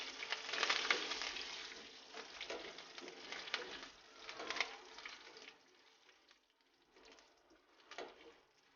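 Curry leaves and whole red chillies sizzle in hot oil in a pan, a steady crackling fry that swells and fades in waves, fairly quiet and with no talking.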